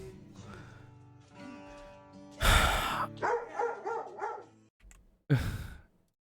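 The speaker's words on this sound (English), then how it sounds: "This dog is adorable." A dog lets out a couple of loud barks and yips close by, with a whimpering sigh between them and a softer tonal sound at the start.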